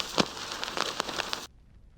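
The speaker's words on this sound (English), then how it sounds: "A crackle sound." A crackle texture layered into the background of a music track gives a dense, irregular burst of crisp pops and snaps for about a second and a half, then cuts off abruptly into near silence.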